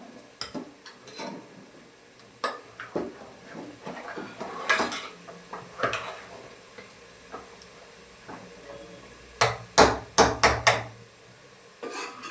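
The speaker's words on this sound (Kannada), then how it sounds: "ಫ್ರೈ ಮಾಡಿರ್ತಕ್ಕಂಥ ಮಟನ್ಗೆ ಈಗ ಈ ಮಸಾಲೆ ಮಿಕ್ಸ್ ಮಾಡ್ಕೊಳ್ಳೋದು" Masala being stirred into fried mutton in a pan, repeated sharp metal spoon clanks and scrapes against the pan at an uneven pace, with a soft sizzle beneath, close and clear.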